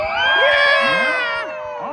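A high-energy audience at an outdoor juggling show shouts and cheers together, a loud burst of whoops and children's yells that swells and then eases slightly.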